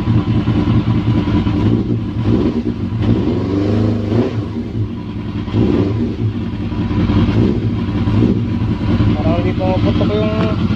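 A cold Yamaha XJR400 motorcycle engine, with one exhaust popping, runs loud and close with an uneven, rough throb throughout while someone talks over it.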